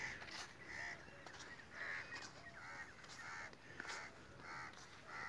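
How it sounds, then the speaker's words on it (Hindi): Evening birdsong over Punjab village fields as birds fly back to their nests, with repeated harsh calls and chirps recurring steadily at a moderate distance against a constant outdoor background, no voices. "पक्षी चहचहा रहे हैं, सभी अपने पक्षी घोंसलों की तरफ जा रहे हैं।"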